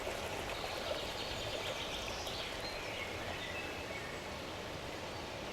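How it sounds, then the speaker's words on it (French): Shaded forest stream of running water, a steady broadband rush that stays even throughout, with faint bird calls in the background. "puis se transforme en petits ruisselets qui rejoignent les ruisseaux"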